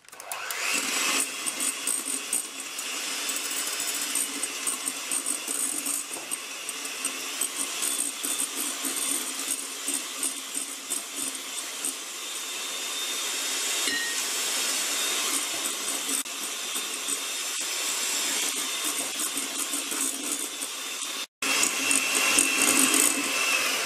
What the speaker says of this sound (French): Je vais venir incorporer un petit peu à la fois mon sucre tout en battant.